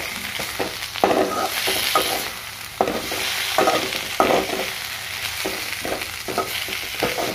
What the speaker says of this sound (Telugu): చింతపండు, ఎల్లిపాయలు, ఓమాకు ఇవన్నీ ఇట్లా కొంచెం నూనెలో వేయించుకోవాలి